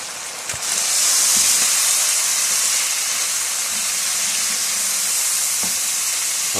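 Garlic and ginger frying in oil for chicken haleem, a steady close sizzle and hiss that swells in after the first second and holds evenly, with a couple of faint clinks.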